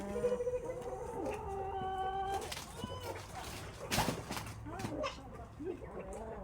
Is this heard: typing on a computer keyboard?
no